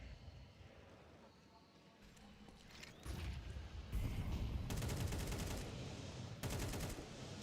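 Bursts of rifle fire, including an M4, crackle through a Counter-Strike match amid mechanical clatter and steady caster commentary, the shots growing louder and denser toward the end.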